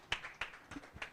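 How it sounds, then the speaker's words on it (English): Scattered applause from a small conference audience at a publishers' association annual meeting, a few sparse, faint claps spread over about a second. "a round of applause for Mr. Frank as he's stepping forward"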